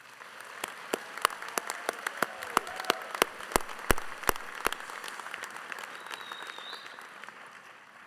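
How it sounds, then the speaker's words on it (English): Graduates at a 2021 winter commencement ceremony give a round of applause, a thin spread of individual claps in a large hall, fairly soft and distant with a few sharp claps standing out. "Give yourselves a round of applause"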